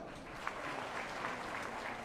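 An audience at a Bastar Dussehra gathering breaks into sustained applause, a steady, fairly distant patter of many hands clapping for about two seconds.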